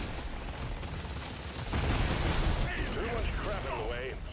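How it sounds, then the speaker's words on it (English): Explosions and gunfire in the video game Deep Rock Galactic, a dense rumbling burst with crackling shots rising partway through, followed by chirpy whooshing effects over a steady noisy bed of game sound. "That's a big explosion."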